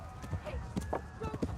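Horse hooves clip-clop in a quick galloping rhythm in the video game Kingdom Come: Deliverance, faint and under a talking voice.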